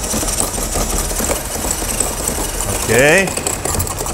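A cordless screwdriver held running by a clip on its trigger, part of a homemade semi-automatic sharpening rig, gives a steady loud motor whine and vibration throughout, with a brief spoken word near the end.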